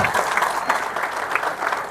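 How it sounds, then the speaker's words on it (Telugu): Steady applause from an audience at a public gathering, a dense, continuous clapping that stays at an even volume from start to finish with no voices over it. "సభికులు చప్పట్లు కొట్టాల్సిందిగా కోరుతున్నాం"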